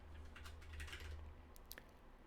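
Faint, close keystrokes on a computer keyboard as a command is typed, a brief run of soft clicks over a low background hum, with no voices.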